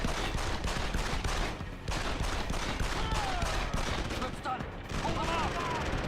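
Dense, sustained enemy gunfire in the video game Deus Ex, rapid overlapping shots and bursts filling the mix with barely a break, plus a few brief electronic chirps near the end.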